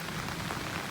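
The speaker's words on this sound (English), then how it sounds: "It's raining." Steady rain falls on a Tesla Model 3, a dense, even patter of drops on the car's glass and body panels, close and continuous with no voices.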